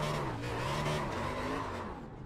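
NASCAR Cup Camaro drifting in the iRacing video game, a loud, steady engine drone with sustained tire squeal running through the whole stretch, no voices over it.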